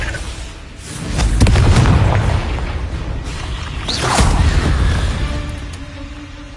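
Confringo fire spell blasts in Hogwarts Legacy, two heavy booming explosions with rumbling low roar and a whooshing tail, loud and close, each swelling and fading over a couple of seconds.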